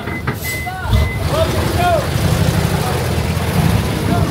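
A truck bound for Mindoro sounds a few short reversing beeps early on, amid a rumbling engine and rainy outdoor noise, with people talking nearby.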